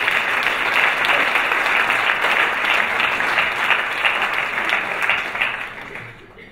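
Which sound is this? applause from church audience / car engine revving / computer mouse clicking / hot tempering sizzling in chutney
applause from church audience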